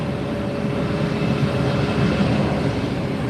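An Allegiant airliner taxiing at Fort Lauderdale International Airport produces a steady, broad jet-engine rumble and whine, continuous and even in level, with no voices.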